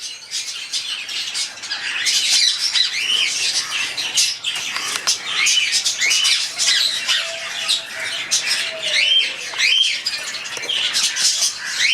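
A pair of lutino black-eyed lovebirds with four chicks squawk and chatter continuously, harsh, shrill calls crowding close together at steady loudness, with no talking.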